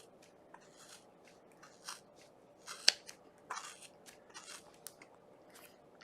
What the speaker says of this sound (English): It's really thick, so you just have to snip